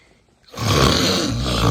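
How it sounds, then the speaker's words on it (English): Loud snoring, starting after a brief near-silence and swelling into a single long, rough, growling breath up close that carries on to the end. "Who's snoring like that?"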